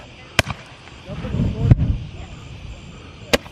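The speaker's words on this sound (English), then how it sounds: "I'm going to grab a bunch of fireworks and throw them in the fire pit" Fireworks thrown into a bonfire fire pit, sharp pops and cracking bursts with a low rumbling whoosh between them, loud and close with faint voices around.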